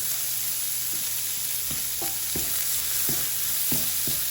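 Onions, spinach and sausage cooking in a pan, a constant hiss of frying under a series of soft stirring scrapes every half second or so, close by and without speech.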